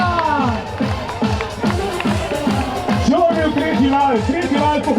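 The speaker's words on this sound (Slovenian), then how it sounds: "En aplavz za naše skakalce" A crowd on the beach at Portorož cheers and claps for New Year's Day sea jumpers, a busy, lively roar with scattered clapping and shouts, while an announcer talks loudly over a PA.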